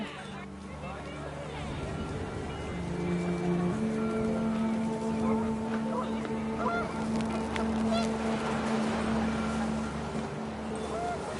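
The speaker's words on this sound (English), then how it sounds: "panicked geese appeared and quickly went" Panicked geese honking in the What Remains of Edith Finch video game, rising over wind and a low drone, with voices and game sounds mixed in beneath a steady, fairly loud bed.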